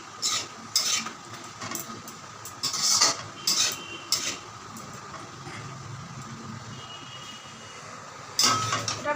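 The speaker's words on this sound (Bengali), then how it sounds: "এবার চাউমিনটাকে মিক্স করে নিই।" Egg and chicken hakka chowmein with vegetables being stirred and tossed in a pan: a spatula scrapes and clatters in irregular bursts over a low background sizzle.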